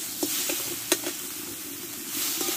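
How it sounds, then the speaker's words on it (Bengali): Spice masala with coriander leaves and turmeric being sautéed in a pan for a fish roe curry, a soft steady sizzle with a few scraping stirs of the spatula, close and without speech. "একসঙ্গে ভালো করে মশলাটা কষে নেব"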